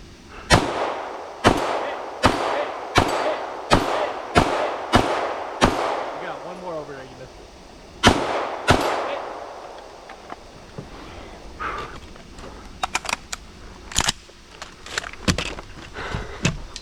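Gunshots at a shooting competition crack out in a quick, evenly spaced string of loud, close reports, a pause, then two more and a scatter of fainter distant shots from other shooters.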